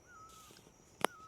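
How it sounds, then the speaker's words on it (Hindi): Outdoors in the Himalayas, a bird gives a brief, faint call, with a thin sustained note and one sharp, louder chirp near the end. "पक्षी है ना, वो बोल रहा है जय हो जय हो जय हो।"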